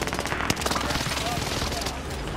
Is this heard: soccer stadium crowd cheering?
no